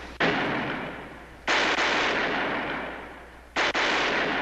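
Dense gunfire in a wartime battle scene, a sustained loud crackling roar of shots that cuts off abruptly and restarts twice, near and continuous with no gaps inside each burst.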